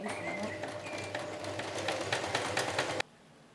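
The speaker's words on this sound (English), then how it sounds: "a buttonhole function to make a little hole for the bracket to go through" A domestic sewing machine runs steadily as it stitches a buttonhole, a fast even whir with a rhythmic needle beat close by for about three seconds before cutting off abruptly.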